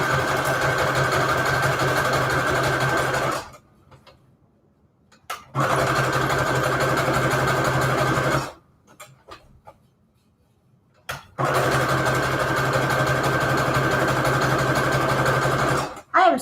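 A sewing machine runs in three long bursts of rapid, even stitching, each a few seconds long, separated by short quiet pauses.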